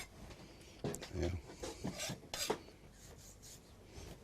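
A knife blade scrapes the skirt off a breaded plaice fillet in a kitchen, making several short, rasping strokes close up, with some speech around them.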